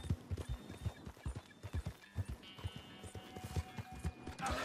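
Horse hooves in the video game Red Dead Redemption 2 clip-clop in a steady rhythmic gait, close and clear, with a faint whinny near the end.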